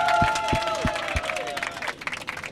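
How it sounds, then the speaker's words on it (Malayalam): An audience claps at a Malayalam stage show, Mazhavillazhakil Amma. Scattered applause and crowd noise rise under a tonal sound effect with a few low thuds, while voices carry over the top. "എല്ലാവരും കൂടെ ചേർന്ന് ഒന്ന് കൈയടിച്ചേ"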